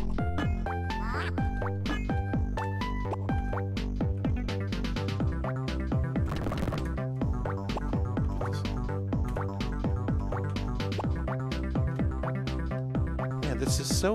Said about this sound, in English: Duck noise is so obnoxious.